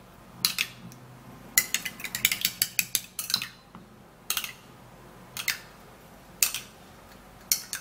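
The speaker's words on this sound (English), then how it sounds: "So you have to then stir the mix together" A spoon stirring a skincare mix in a bowl, a series of sharp clinks and scrapes in uneven bursts over a quiet background, no talking.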